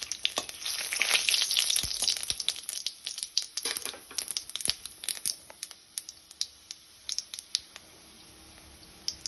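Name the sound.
whole spices and bay leaf sizzling in frying oil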